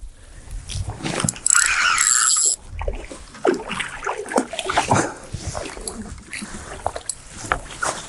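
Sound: fish struggling on a fishing line in a river

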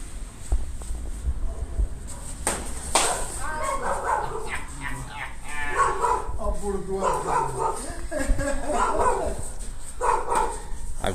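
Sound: dogs barking

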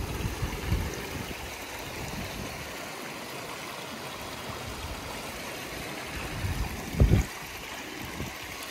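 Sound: stream water splashing into small plunge pool

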